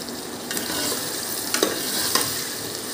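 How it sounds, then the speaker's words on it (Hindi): Green chili and ginger paste fries in a pan for a tempered moong and masoor daal, a dense, close, continuous sizzle broken by a few quick stirring scrapes. "अब इसको अच्छी तरह भून लेना"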